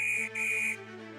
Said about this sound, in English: the guard blew his whistle